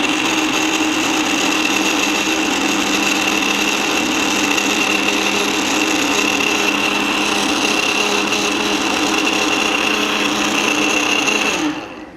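A blender whirs steadily while mixing a high-protein smoothie, a loud, even motor whine that holds unchanged for about twelve seconds before cutting off abruptly at the end.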